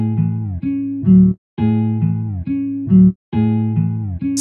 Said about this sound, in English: With slide notes, you can create a tape stop effect, which is really cool for lo-fi.